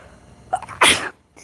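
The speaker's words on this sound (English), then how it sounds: "I never sneeze" A single loud, close sneeze bursts out sharply after a brief intake sound, then the room falls quiet.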